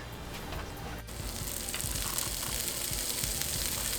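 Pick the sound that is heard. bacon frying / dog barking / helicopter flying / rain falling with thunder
bacon frying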